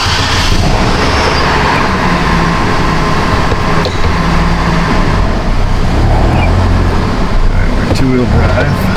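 A Chevy Colorado pickup truck engine runs steadily and loud at close range, a continuous low rumble throughout with no break, while people talk in the cab. The truck has a four-wheel-drive fault.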